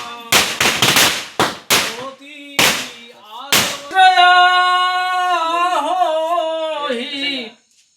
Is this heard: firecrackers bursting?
yes